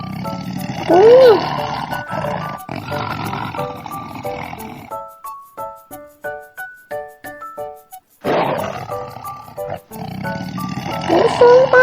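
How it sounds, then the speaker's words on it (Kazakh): A tiger gives a single deep roar, close and loud, framed by spoken words before and after; a short run of bright tinkling tones sits in the quieter middle stretch. "Бұл жолбарыс."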